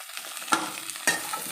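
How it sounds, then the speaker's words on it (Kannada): Small cut pieces of dried coconut fry slowly in a pan over low heat, with a soft, close sizzle and two sharper stirring scrapes. "ಈ ಕೊಬ್ಬರಿನೂ ಸಹ ಇವಾಗ ಫ್ರೈ ಮಾಡ್ಕೊಳ್ಳೋಣ"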